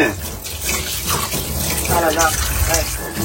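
Running water from a tap splashes and gushes while mutton intestines are washed in a sink, steady and close, with talking over the flow.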